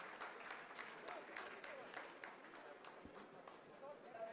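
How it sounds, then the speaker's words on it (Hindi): Scientists at mission control applaud during the Chandrayaan 3 lander descent, a steady wash of clapping with voices mixed in underneath, fairly faint and distant throughout. "आप इस तालियों के गड़गड़ाहट को सुन सकते हैं"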